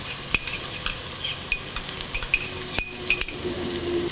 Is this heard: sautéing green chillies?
yes